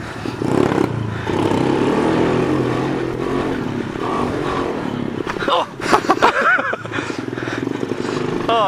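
A small pit bike engine revs and buzzes steadily on a dirt track, loud and close, with the pitch rising and falling as the throttle changes. Some brief voice sounds and rattling come through over it.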